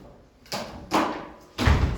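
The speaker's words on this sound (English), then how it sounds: "Please sit and close the door for me." A door is closed in a classroom, with a few dull thuds and bumps spread over two seconds, the last one heaviest, against quiet room tone.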